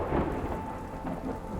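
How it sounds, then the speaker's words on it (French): A thunderstorm at night, with a steady, dense rumble of thunder mixed with rain, continuous and fairly loud through the short clip without any talk. "La nuit du 7 novembre 1913, l'orage gronde."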